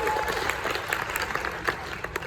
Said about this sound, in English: Everybody give Al a round of applause